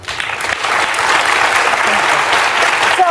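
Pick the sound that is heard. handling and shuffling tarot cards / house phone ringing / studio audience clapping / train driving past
studio audience clapping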